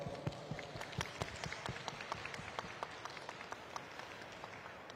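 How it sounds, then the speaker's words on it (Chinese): An audience applauds at a dance competition, the 2025 Famous Masters Cup Taiwan Star open dance contest, with scattered hand claps forming a steady, fairly faint patter of sharp taps that continues throughout without voices. "我们给他鼓掌一下"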